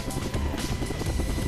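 Helicopter in flight carrying military high-altitude infiltration trainees, a loud, steady rotor and engine roar with rapid pulsing blade chop throughout.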